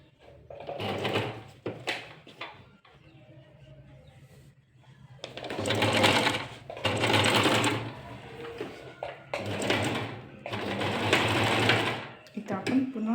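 An overlock sewing machine runs in several short stitching bursts of a few seconds each, separated by pauses, while someone speaks between and over the runs.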